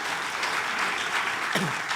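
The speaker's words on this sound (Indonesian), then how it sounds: "Beri tepuk tangan lagi buat Tuhan kita." A church congregation at a worship service applauding, steady, dense clapping that fills the room at an even level, with a brief voice faintly cutting in near the end.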